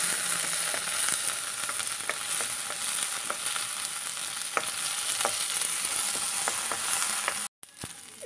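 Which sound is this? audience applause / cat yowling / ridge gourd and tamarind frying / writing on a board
ridge gourd and tamarind frying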